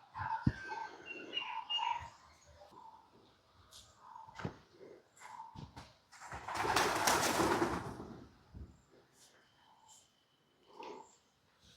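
Pigeons cooing near a temple in a Jaffna village, giving soft repeated coos amid clicks, footsteps and a loud rush of flapping wings partway through, with quiet stretches between.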